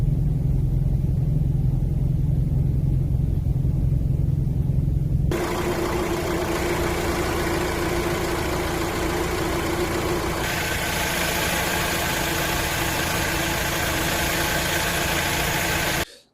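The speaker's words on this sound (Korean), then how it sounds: "엔진 소음이 좀 심하게 올라오던가요?" Steady engine noise from a newish car with a recurring engine-noise defect drones for the whole stretch, a loud low rumble that jumps abruptly to a harsher, brighter roar partway through, with no voices.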